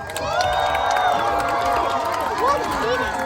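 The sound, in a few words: audience cheering for a race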